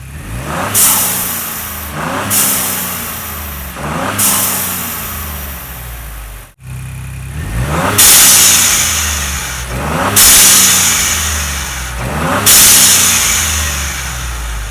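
A loud Ford Bronco V8 engine with an intake spacer and plugs removed revs repeatedly in strong bursts, each rising then falling back to a rumbling idle, with a deep aggressive intake roar close by.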